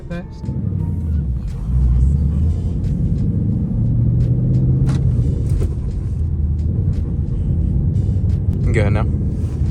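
A manual Ford Mustang GT S197 pulls away hard, its engine a deep, loud rumble swelling from inside the cabin, with people talking over it.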